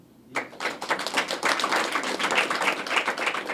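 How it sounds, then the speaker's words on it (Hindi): An audience breaks into applause at a talk on ayurveda, a burst of many hands clapping that starts abruptly and continues steadily, fairly close and loud. "नहीं हुआ, ठोको ताली"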